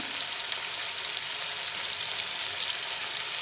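Turmeric and tomato frying in hot oil in a pan while pabda fish curry is being made: a steady, dense, close sizzle with no talk, holding an even level throughout.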